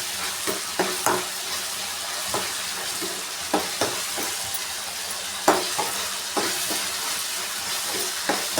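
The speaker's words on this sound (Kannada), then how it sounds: "ಚೆನ್ನಾಗಿ ಫ್ರೈ ಮಾಡ್ಕೊಬೇಕು." Tomato and onion frying in a pan for khichdi, a steady sizzle with a spoon stirring and scraping at irregular intervals, some strokes sharper and louder, close by and with no voices.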